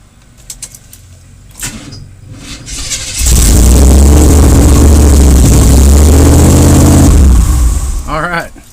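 A square body truck's 454 V8, just fitted with a swapped carburetor, starts and settles into a loud, steady high idle that holds for several seconds before easing off, with a voice heard faintly.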